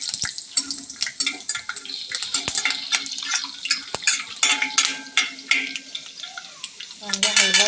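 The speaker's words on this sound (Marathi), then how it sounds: "शेंगदाणे चांगले तळल्यानंतर चांगले भाजून घ्यायचे शेंगदाणे" Peanuts roast in hot oil in a pan for poha, a busy crackling sizzle mixed with repeated scraping and clattering from vigorous stirring, loud and close the whole time.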